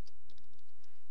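Quick run of computer keyboard typing while entering text in AutoCAD LT 2007, several close, crisp key clicks in an uneven burst with no voices.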